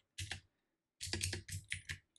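Typing on a computer keyboard while entering SSH agent configuration, heard as a short burst of close key clicks, a pause, then a denser run of rapid keystrokes, with no talking.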